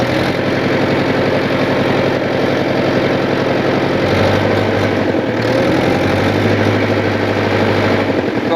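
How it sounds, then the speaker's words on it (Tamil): Tractor engine running while ploughing a field, a loud, continuous low drone with a steady throbbing rhythm that strains slightly in pitch midway. "அப்படியே உழவு ஓட்டிகிட்டே போகலாம்."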